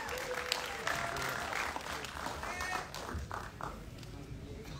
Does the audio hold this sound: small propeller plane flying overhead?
no